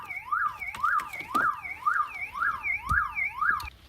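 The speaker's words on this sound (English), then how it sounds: "I need to disable the alarm on this sucker." A 2000-2004 Chevrolet Impala's car alarm wails in a rapid rising-and-falling siren pattern, repeating steadily and loud at close range before cutting off near the end.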